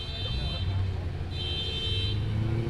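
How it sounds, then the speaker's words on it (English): Cars arriving at a rooftop car meet on top of a parking garage, mostly European models, with a steady low engine rumble and a faint high tonal beep, under continuous background chatter. "Cars rolling in."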